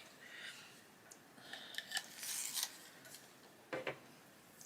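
An olive green coloured pencil being sharpened makes faint, close scraping and grinding bursts, several short twists spread irregularly across a quiet background.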